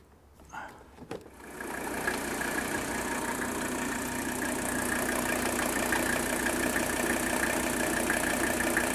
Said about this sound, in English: now I'm going to put that cap back on, and we'll be ready to fire this engine up